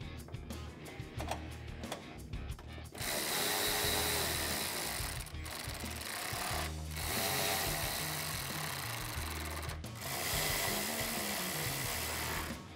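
A hand ratchet tightens factory hardware on a 2019-2020 RAM 1500 mud guard, clicking rapidly in close, steady bursts broken by a few brief pauses.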